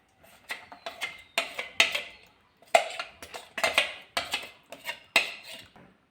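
Semolina batter being poured and stirred in a bowl, with a series of sharp clattering knocks of utensils against the bowl coming in irregular bursts, close and fairly loud, with no talk.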